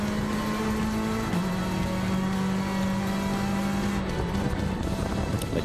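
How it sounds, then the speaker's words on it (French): An Opel Adam R2 rally car drives a stage of the 2013 Rallye du Var, its engine holding a steady high drone with a pitch drop partway through and gear changes near the end. "cette Opel Adam R2 qui ouvrait ici la route"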